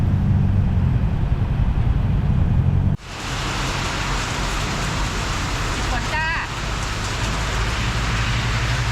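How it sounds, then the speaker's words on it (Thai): Steady rain and road noise during a Yamaha Finn motorcycle ride in Chanthaburi, Thailand, a dense wash that drops off abruptly at about three seconds, then continues at an even level, with no talk. "ตอนนี้เราติดฝนนะครับผม"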